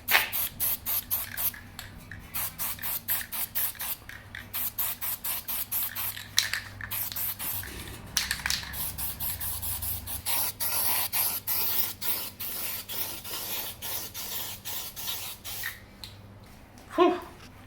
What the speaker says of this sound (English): So now I'll just spray on the developer.